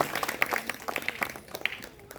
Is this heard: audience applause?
yes